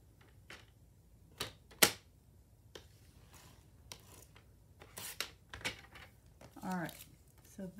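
Scissors snip through paper triangles, cutting them in half, in a series of sharp, irregular close snips and rustles, with a voice talking in places.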